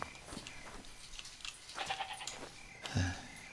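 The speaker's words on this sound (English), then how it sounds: "Yeah, that's a goat." A goat in the survival video game SCUM gives a short bleat near the end, following faint, sparse game sounds and quiet background ambience.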